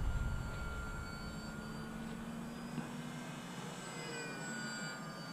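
A foam RC trainer model airplane flies at half throttle, its motor a steady, fairly faint buzzing drone that holds an even pitch throughout.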